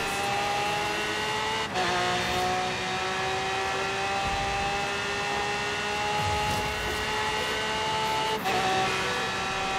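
A car races at near top speed through the city on the Goliath circuit in Forza Horizon 3, its engine a loud, steady high-pitched whine that breaks briefly at two gear shifts and then climbs again.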